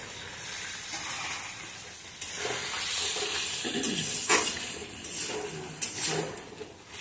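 Fish heads fry in a pan, giving a steady, close sizzle and hiss with occasional stirring scrapes and clinks throughout.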